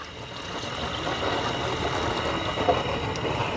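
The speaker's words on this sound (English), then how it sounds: "we add about 1 liter of water." About a liter of water poured into a pot makes a steady, continuous rushing splash at close range, without any talking.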